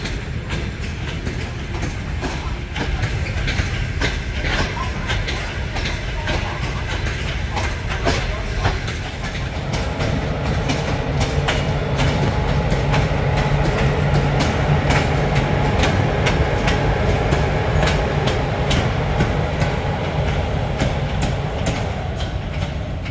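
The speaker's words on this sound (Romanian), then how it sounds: "Se manevrează mai multe trenuri." Continuous low rumble of several trains being shunted slowly through Gara de Nord station in Bucharest, with steady rolling noise and occasional clanks and faint squeals, fairly loud throughout.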